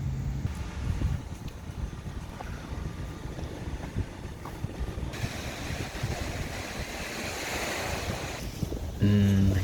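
Ocean surf washing onto a beach beside a steel mill in Pohang, South Korea: a steady, broad roar of breaking waves with wind buffeting the microphone and no voices.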